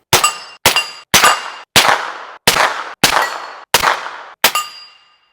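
Eight sharp, loud shots from a suppressed CZ P-09c pistol with an AB F4 suppressor firing Aguila 115 grain rounds, evenly spaced at roughly half-second intervals, each with a short ringing decay.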